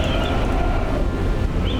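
Strong wind roars steadily over a sailboat heeling hard in the Sailaway 2 Pro sailing game, a dense, constant rushing wash with no break and no voices.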